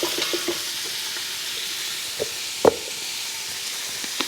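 Onions fry in a pan of bacon fat alongside andouille, a steady close hissing sizzle broken by a few soft knocks and one sharper utensil tap, with no speech.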